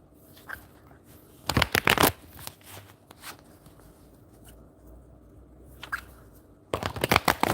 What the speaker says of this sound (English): shuffle the cards for you.